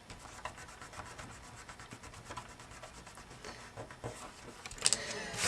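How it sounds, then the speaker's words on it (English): Scrap paper being rubbed firmly onto a chipboard die cut produces soft, repeated scratchy strokes, close and quiet, ending in a few sharper rustles. "So I'll just put that scrap on there, rub it on good."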